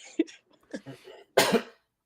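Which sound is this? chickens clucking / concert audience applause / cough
cough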